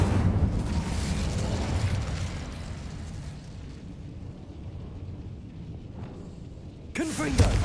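A loud burst of fiery magical blast erupts from the Incendio fire spell in Hogwarts Legacy, then rumbles down into a lower sustained roar before another sharp crackling burst near the end.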